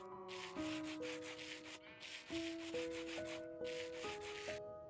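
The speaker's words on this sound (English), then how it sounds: "you put your sandpaper in one hand, your rose quartz in the other, and you give it a good old rubberoo" Sandpaper rubbed against a piece of rose quartz crystal in steady back-and-forth strokes, a dry continuous scratchy abrasion in several bursts with short pauses, heard close up over light background music, no talking.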